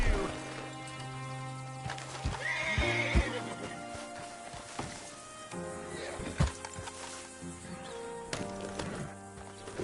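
In the video game Red Dead Redemption 2, a horse whinnies and hooves clip-clop on a hard surface amid other game-like sounds and some voices.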